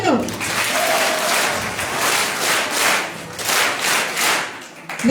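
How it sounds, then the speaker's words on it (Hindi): A group of people in a classroom clap their hands together in a sustained burst of applause, dense and fairly loud, with brief voices at the start and end. "एक बार और ताली बजा दो, चलो।"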